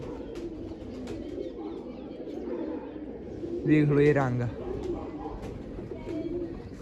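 Pigeons coo softly and intermittently nearby beneath near-continuous talking, with one louder burst partway through.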